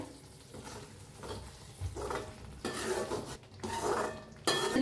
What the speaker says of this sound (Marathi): आपला मसाला चांगला भाजलाय आता याला हलवून घेऊया